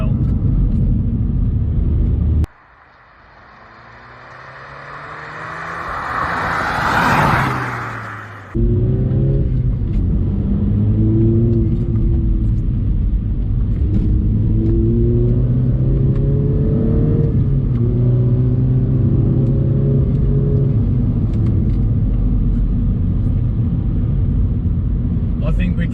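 Mini John Cooper Works driven along bendy roads, its engine note rising and falling in steady revving pulls, with a brief stretch of rushing wind noise early on before the engine drone returns, close and continuous.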